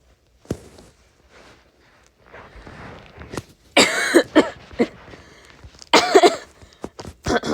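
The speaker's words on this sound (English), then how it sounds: "I guess it's making me cough" A person coughs in several harsh bursts, with quieter shuffling and breathing between, the loudest coughs clustered near the end.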